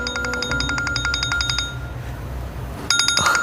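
Telephone ringtone repeating in a rapid electronic pulse pattern, loud and close, with a short pause before it resumes at the end.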